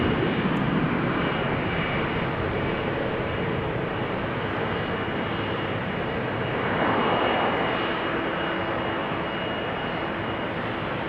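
A Finnair Airbus A350 at Amsterdam Schiphol Airport fills the scene with a steady, loud roar of jet engines, holding at a constant level and swelling briefly near the end.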